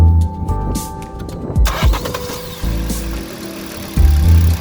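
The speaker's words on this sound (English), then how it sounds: "Start the engine, yeah?" A Hyundai i20 engine with a newly replaced timing chain cranks with uneven bursts of starter noise and clatter, then settles toward running, loud and close.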